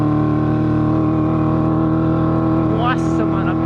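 A Yamaha FZ6 motorcycle idles and runs loudly up close with a steady, harmonic-rich drone and an abnormal engine noise, with a rising rev-like sweep near the end.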